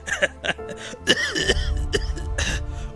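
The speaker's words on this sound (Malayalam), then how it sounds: "അന്നേരം മുതൽ ഈ ചുമയും കൂടെ ഉണ്ട്" A man who gave up cigar smoking coughs in several short, harsh bursts, with some throat clearing, close and loud.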